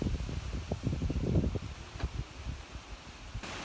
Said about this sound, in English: I love the wind